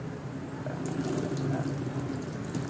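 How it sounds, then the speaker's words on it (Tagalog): Water poured in a steady stream onto a wood piece finished with two coats of a water-resistant coating, a continuous close splashing rush lasting a few seconds with no voices. "Ngayon, buhusan na natin ng tubig."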